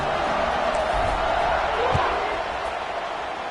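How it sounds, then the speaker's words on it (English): Steady broadband roar of a football stadium crowd buzzing at a Georgia Tech–Louisville game after a score, continuous and diffuse throughout with a faint thump near the middle. "this crowd is buzzing after that last score"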